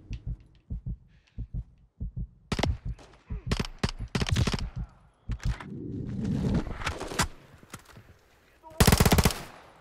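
Gunfire in a Call of Duty campaign mission, scattered single shots and short rapid bursts close and loud, with a rumbling stretch in between and a heavy final burst.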